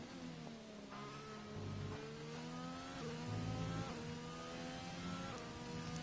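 A Renault-powered Formula 1 car in the F1 2020 video game at Bahrain revs hard, its steady high-pitched engine note rising and dropping through gear changes for several seconds, loud and continuous with no talking.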